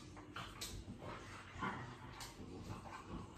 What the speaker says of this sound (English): My dogs are playing behind the camera, and that's why there's a lot of background noise.